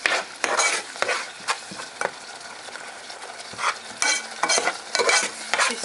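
Repeated scraping of a utensil stirring a bubbling, sizzling mixture for homemade coconut butter in a pan, in irregular strokes, close up and fairly loud, with no voices.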